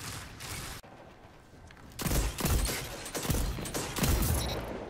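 Gunfire in a Destiny PvP match: a sustained rattle of shots at the start, a short quieter gap, then several loud, sharp bursts close together with distinct impacts.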